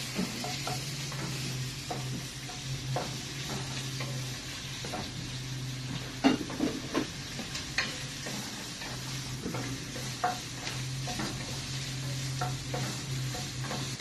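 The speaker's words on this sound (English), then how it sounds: "I'm gonna put the rest of the onion in, and I'm gonna give that a stir and let them fry a little bit" Onions fry in a pan with a steady low sizzle while a utensil stirs them, making irregular scraping and tapping strokes, louder in the middle, close and without speech.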